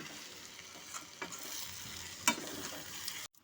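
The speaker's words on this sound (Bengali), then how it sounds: "ভালো মতো করে মিশিয়ে নেব" Vegetarian cabbage murighonto fries in a pan while being stirred, a steady close sizzle broken by a few scraping clinks of the spatula, ending abruptly.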